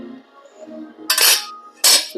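Croissant pastry dough being cut, heard as two short, bright, crisp slicing scrapes about a second apart against a quiet room with faint background tones.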